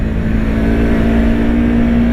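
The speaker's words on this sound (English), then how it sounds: "it's a great little engine" Yamaha MT-03 motorcycle with a 321cc engine running steadily, a loud, close, even engine drone with a strong low hum and no speech.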